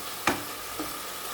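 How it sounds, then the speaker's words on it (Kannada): Onion and tomato masala for homemade chicken biryani fries in a pan with a steady, close sizzle, broken by two quick scraping knocks of a stirring spoon. "ಅಷ್ಟು ಚೆಂದ ಮಾಡಿ ಹುರಿಬೇಕು."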